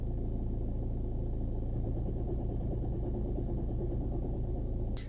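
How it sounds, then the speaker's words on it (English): A failing dual mass flywheel on a 2006 Volkswagen Jetta TDI chugs and rumbles at idle, a close, steady, rhythmic low knock that continues throughout. "That is a dual mass flywheel that is going."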